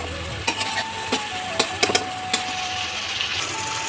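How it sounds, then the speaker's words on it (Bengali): Spice paste with tomato stir-fried in a pan for a pointed gourd and paneer curry, a steady soft sizzle broken by several sharp spatula scrapes and clicks, close and fairly quiet with no talking. "এবার মশলাটা ভালো করে কষিয়ে নিতে হবে।"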